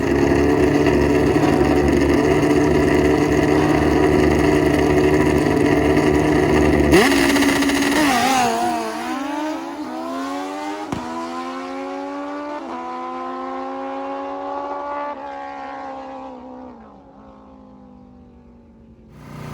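A Kawasaki KZ1000 motorcycle engine runs with a loud, steady droning tone that suddenly drops away and then falls and rises in pitch as the revs shift, heard close and alone.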